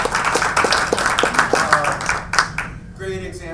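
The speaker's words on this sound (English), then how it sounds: "Your applause." Audience applause at a live-streamed comedy show, a brisk burst of many hands clapping that fades out after a couple of seconds.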